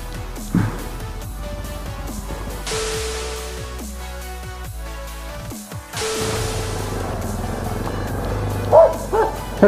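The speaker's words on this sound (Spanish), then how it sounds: "Pinche perro." Dog barks at a car during a night curfew in Quito, a run of sharp barks and yips close by over steady engine hum, with brief pauses between the bursts.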